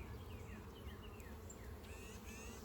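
Honeybees buzz steadily in a busy resource hive full of brood, a dense close drone of many wings with individual bees zipping past, with no one talking.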